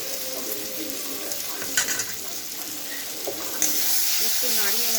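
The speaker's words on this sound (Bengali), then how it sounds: "একটু নাড়িয়ে নেব যাতে না তলায় ধরে যায়।" A spoon scrapes and stirs food in a frying pan at home while it sizzles steadily, with occasional metallic clinks against the pan and a voice speaking briefly.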